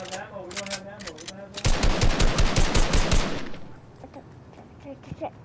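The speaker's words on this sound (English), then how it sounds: "Or this tactical shotgun!" Tactical shotgun gunfire in the Fortnite video game comes as a dense, loud burst of rapid shots in the middle of the clip, with game sounds and faint voices before and after.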